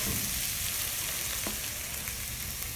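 Tomatoes and onions fry for pirandai chutney in a pan, a loud, steady sizzle filling the whole moment with no talk.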